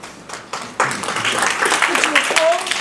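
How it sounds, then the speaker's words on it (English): Audience applause at a school forum on the future of MMSD schools, a dense wash of clapping that swells and holds while a person talks over it. "Could you hold your applause?"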